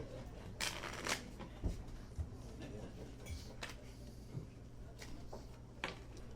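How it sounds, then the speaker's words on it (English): A deck of story cards is shuffled by hand at a reading event, giving several brief riffling bursts spaced through quiet room ambience. "So I'm just going to give it a little shuffle, and we'll see what happens."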